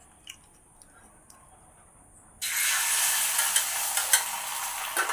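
A bread omelette frying in a pan on a village stove bursts into a loud, steady sizzle halfway through, after a near-silent start with faint clicks.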